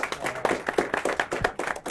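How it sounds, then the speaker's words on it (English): Scattered applause from a small audience after a poetry reading in the Little Kanawha Reading Series, with uneven individual hand claps rather than a dense roar, close and moderately loud. "Let's give Ace one more round of applause"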